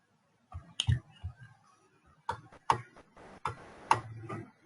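A few sharp computer mouse clicks spaced irregularly, close and fairly quiet, with soft handling noise between them in a quiet room while clicking through a Vista admin control panel.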